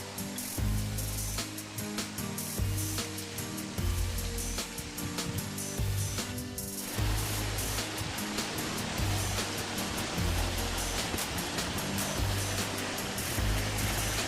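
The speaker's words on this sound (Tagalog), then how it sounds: "Ayan, nagagandang maliliit na waterfalls." Small waterfalls on the Dipalo river in the Philippines give a steady, broad rush of falling water, continuous and even throughout, with a tonal layer over the rush in the first half.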